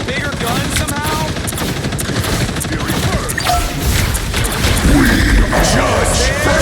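Punisher's oversized gun in the video game Marvel Rivals fires loud, rapid bursts of automatic gunfire, a dense run of shots layered with other game effects and noise.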